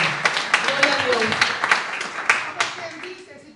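Church congregation clapping along during a Spanish-language Bible study service, a steady patter of handclaps with voices mixed in under it, moderately close and fading toward the end.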